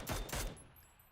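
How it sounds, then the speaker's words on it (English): Two loud, close gunshots ring out in quick succession in PUBG during a console esports match, each sharp blast followed by a fading tail. "those gunshots going to tell Zoo where that last player is"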